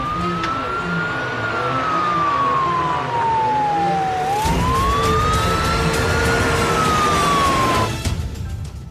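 Police car siren wailing loud and close, its pitch sweeping up and down in long slow cycles, with traffic rumble underneath and the siren cutting off near the end.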